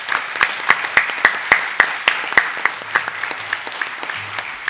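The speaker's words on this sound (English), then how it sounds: "So let's give you a round of applause" Sparse applause at a school district board meeting: a small group claps in a steady, loosely spaced pattern of sharp individual claps, near and moderately loud, with a faint low hum underneath.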